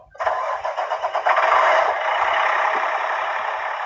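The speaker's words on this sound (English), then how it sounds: "now I can turn the vehicle on at this moment of time and build up my air pressure" A commercial truck's engine cranks and catches during a CDL Class A pre-trip inspection, a short rhythmic starter churn for about a second and a half before settling into a steady, close idle rumble.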